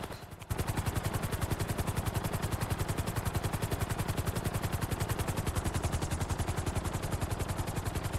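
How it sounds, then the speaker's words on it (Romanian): Helicopter in a GTA video game, a loud, rapid and even rotor chop that starts abruptly after a brief moment and pulses steadily throughout, with no talking. "că elicopterul ăsta e mai agresiv așa de fel"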